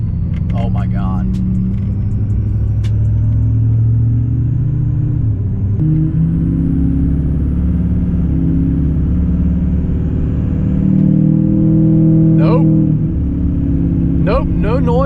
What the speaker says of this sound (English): this turbo is somehow even louder than the old one, which I didn't think was possible, but it is. And it sounds incredible.